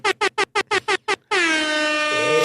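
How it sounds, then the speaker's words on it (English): Air horn sound effect: six short, loud blasts in quick succession, then one long sustained blare, heard alone. "I was thinking about the air horn?"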